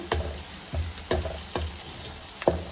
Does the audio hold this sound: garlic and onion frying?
yes